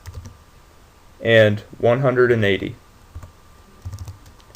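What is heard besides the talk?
typing values on a computer keyboard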